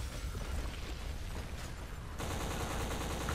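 Gunfire rakes a tower in the Xbox first-person shooter Black: dense, loud, rapid bursts merge into a continuous roar with heavy booming rumble, with no pause over a few seconds.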